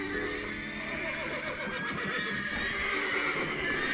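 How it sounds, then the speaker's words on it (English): Horses in a medieval fantasy game neigh and whinny loudly, with shrill rising and falling calls over faint hoof clip-clop in a stable. "Gotta calm all the horses before they wake the guards."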